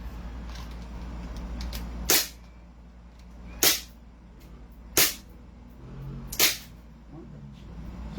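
Four loud, sharp gunshots from a silver Beretta pistol at a firing range, spaced a second or more apart, each followed by a short decay over low background rumble.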